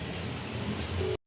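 Rain falls steadily during the monsoon as a soft, even hiss and patter. It stays quiet and unbroken for just over a second before cutting off abruptly.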